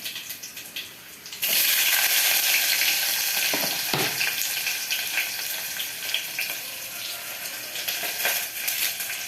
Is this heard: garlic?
yes